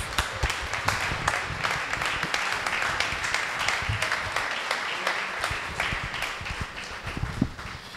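Sustained applause from an audience at an academic congress on Mexican electoral reform, steady and fairly loud clapping throughout with scattered sharper claps and faint voices mixed in.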